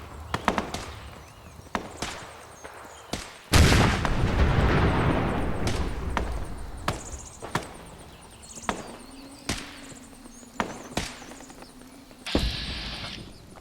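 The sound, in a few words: robot exploding in video game Fallout 4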